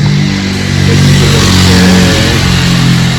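A motorcycle engine runs loud and close with a steady revving drone and slight rises in pitch, with no voices over it.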